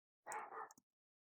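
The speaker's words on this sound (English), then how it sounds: "sorry if you hear a dog barking" One short, clipped dog bark, faint and somewhat distant, with a tiny trailing yip right after it and silence around both.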